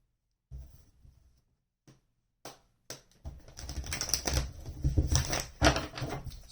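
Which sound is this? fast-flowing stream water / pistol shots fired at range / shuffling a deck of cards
shuffling a deck of cards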